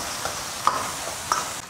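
Steady sizzling of beef stir-frying with pickled chilies, ginger, scallion and garlic in a hot wok, with two faint clicks of a spatula against the pan, no talk.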